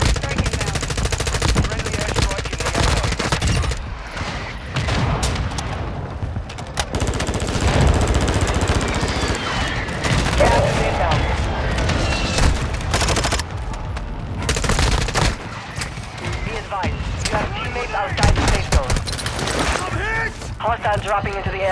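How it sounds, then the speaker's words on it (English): A mortar strike in Warzone 2, a dense, loud barrage of rapid blasts and rattling automatic fire that pounds on almost without pause, while a voice talks over it. "Mortar support incoming."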